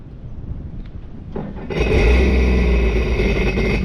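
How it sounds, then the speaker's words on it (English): A Sea-Doo jet ski engine starts after a quiet lead-in, then settles into a loud, steady running hum close by. "Turn on the engine"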